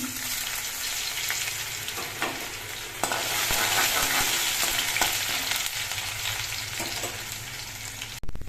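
Dried red chillies, whole cumin, bay leaves and chopped ginger crackle and sizzle in hot oil for dalma, a dense continuous frying hiss with spatula scrapes and occasional sharp pops.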